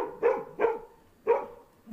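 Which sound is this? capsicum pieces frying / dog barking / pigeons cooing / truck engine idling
dog barking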